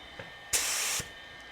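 Spray gun laying primer onto a 1965 Thunderbird at low air pressure, one steady loud hiss burst of about half a second, preceded by a faint click and ending abruptly.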